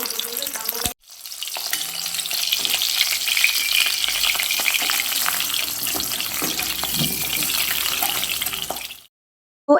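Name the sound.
pomfret fish frying in hot oil in a wok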